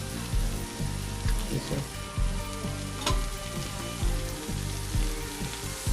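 Masala of tomato, coriander leaves and mint frying in a pan, a steady close sizzle broken by regular scraping stirs of a spoon, loud and continuous with no talking.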